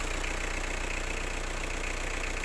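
A 1.9 non-turbo diesel in a 2000 Peugeot Partner ticks over at idle, giving a constant low hum and a soft, regular knock with no voices.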